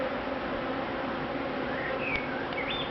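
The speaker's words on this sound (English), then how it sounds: "There's plenty of bees." Bees buzz in a hive, a dense continuous drone with a few individual insects whining closer and passing by, steady and moderately loud throughout.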